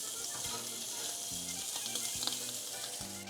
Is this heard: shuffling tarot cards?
no